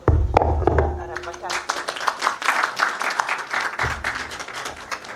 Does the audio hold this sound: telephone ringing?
no